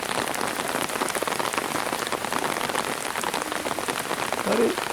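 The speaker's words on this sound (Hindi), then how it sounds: "और तेज बारिश हो गई।" Heavy rain pours down steadily near Kausani in Uttarakhand, a dense continuous patter on surfaces from start to end, loud and close, with no talking over it.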